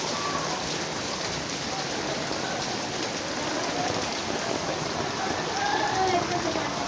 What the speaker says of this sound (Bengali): যেমন হচ্ছে বৃষ্টি এরকম পানিও পড়তেছে।